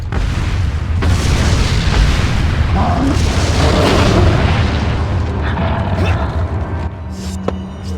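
Grenade explosions in the Resident Evil video game, dense booming blasts that keep the whole stretch loud, with a lingering rumble and faint game sounds as it fades near the end.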